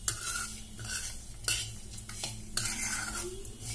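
Flattened rice (poha) and nuts frying in ghee, a soft continuous sizzle broken by repeated close scraping stir strokes every second or so, with no talking.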